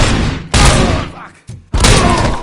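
Heavy, loud gunfire bursts erupt in three dense blasts separated by brief gaps in the video game Robocop Rogue City, booming and thudding up close with no talking.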